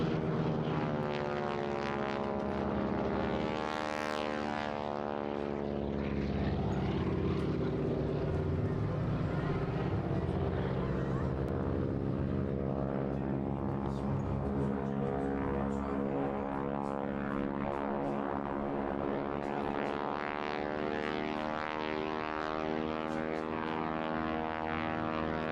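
Gaily coloured propeller aircraft modified with extra ailerons fly at the Parco Victory Festival air display, their engines droning loud and continuous with shifting pitch as they reposition overhead, a commentator's voice running beneath.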